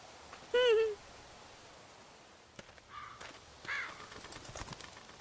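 A bird calls in The Walking Dead Season 1 Telltale game, one loud call near the start followed by fainter chirps and rustling in a quiet scene.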